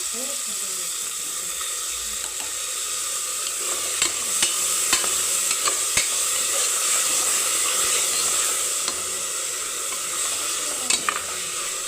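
Tomatoes are sautéed with ginger garlic paste in a pan for chicken gravy, giving a steady sizzle punctuated by sharp scraping clicks as a spoon stirs the mixture up close.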